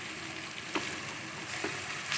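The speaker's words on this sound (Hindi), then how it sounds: "अब इसको भी अच्छे तरीके से इसी प्याज के साथ भूनेंगे हम।" Chopped onion with green chillies, turmeric and salt fries in a pan with a steady close sizzle. A couple of faint stirring scrapes break through the crackle.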